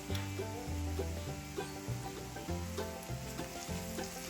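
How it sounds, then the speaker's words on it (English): Food for a country mountain breakfast fries and sizzles steadily in a pan with an even, dense hiss, close and continuous, joined by faint stirring sounds and no speech. "Hear that get in there, frying."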